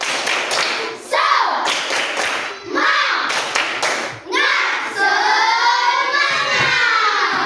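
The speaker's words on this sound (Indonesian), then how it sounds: "Coba tepuk semangat" Fifth-grade schoolchildren perform a rhythmic spirit clap in a classroom, bursts of sharp, patterned group clapping alternating with loud chanted young voices that rise and swell, ending in sustained shouting.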